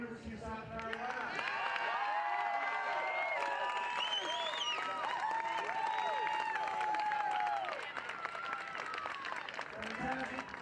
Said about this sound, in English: let's hear a round of applause for University of South Carolina.